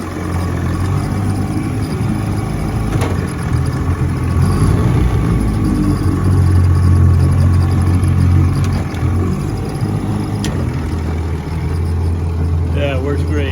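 A restored vintage outboard motor runs steadily in reverse, giving a close, loud, even engine drone while someone talks over it.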